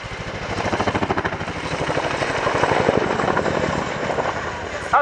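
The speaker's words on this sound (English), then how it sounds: "As one of the largest battlefield helicopters in the world, these manoeuvres really showcase the Chinook's excellent manoeuvrability" A Boeing Chinook HC4 twin-rotor battlefield helicopter performs manoeuvres at an RAF airshow, its heavy rhythmic blade thumping loud and steady throughout, with a faint voice occasionally audible beneath the rotor noise.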